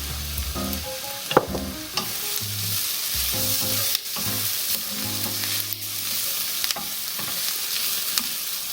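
Onions sizzle and crackle steadily in a hot pan, with occasional scraping stirs over the constant frying hiss.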